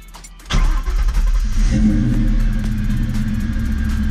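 A 1994–2004 Ford Mustang GT engine with long-tube headers cranks briefly on a new starter and catches, then settles into a steady, close idle rumble that continues to the end.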